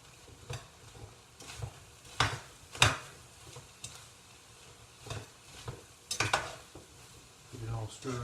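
Ground turkey being stirred in a frying pan with cabbage, onions, peppers and tomatoes: soft scraping strokes and occasional sharper utensil knocks over a low sizzle, intermittent and fairly quiet.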